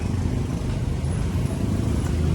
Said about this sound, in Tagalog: ayan mga jeep na yan, galing po yan ng Guadalupe